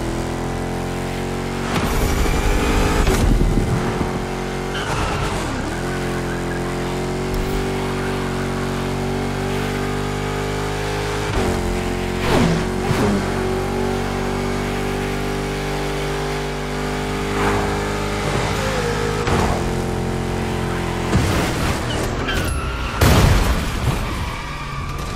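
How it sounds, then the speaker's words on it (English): Big block 632 engine on a hoodless special car in The Crew Motorfest, revving loud and close with deep sustained drone, several sharp throttle blips and rising pulls across the stretch. "a special car for a special engine, a 632 freight engine, also called a big block"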